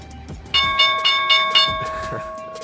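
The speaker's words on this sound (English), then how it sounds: "Alright, there's the opening bell." A stock market opening bell rings, a bright repeated clanging of about five strokes with sustained ringing tones that linger and fade, fairly loud and close.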